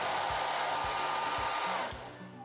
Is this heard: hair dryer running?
yes